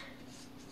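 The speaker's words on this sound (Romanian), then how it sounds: "Scriu cu un marker permanent, care le găsim pe toate drumurile, da?" A permanent marker writes on plant labels for seedlings, giving a steady, faint scratching rub that runs continuously for under a second with no pauses and no talk.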